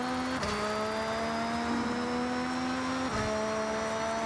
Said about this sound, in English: It sounds a bit like an F1 car, like the modern F1 cars.